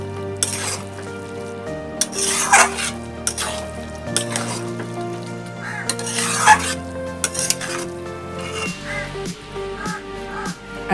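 A metal spoon stirs and scrapes a pot of mung dal cooked with ash gourd, giving repeated clinks and scrapes over a soft simmer, close and fairly loud, with no talk.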